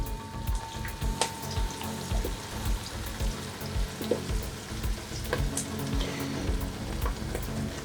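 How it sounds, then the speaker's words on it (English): Red onions frying in a pot while being stirred to caramelize, a constant dense sizzle with soft spoon scrapes and occasional pops, close up with no voices. "Stir it to brown it a bit so that to caramelize the onions."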